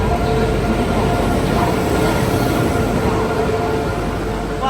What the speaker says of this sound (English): Look, Crusoe, there's a train coming in.